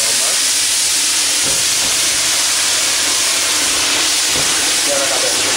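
Water poured into hot semolina halva on the stove sends up a loud, continuous broadband steam hiss that fills the whole moment without letting up.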